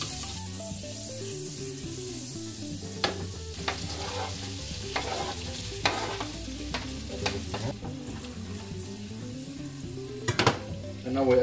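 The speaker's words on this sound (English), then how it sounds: "Then we add some butter. We add olive oil so the butter doesn't burn." Butter and Spanish olive oil heat together in a pan, a steady sizzle with frequent utensil scrapes and clinks against the pan throughout, growing louder at the very end.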